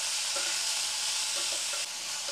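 Ingredients fry lightly in a pan for Bengali lau ghonto with bori, a bright, even sizzle filling the short moment while a utensil stirs and scrapes a few soft times.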